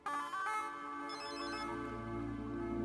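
A telephone ringtone plays a melodic, repeating electronic tune, clear and close, with no talking over it.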